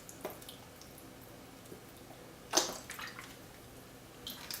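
Water is poured into the bottom of a seed tray sown with tomato, lettuce and nasturtium seeds, making a faint, soft trickle with one brief splash over quiet room background.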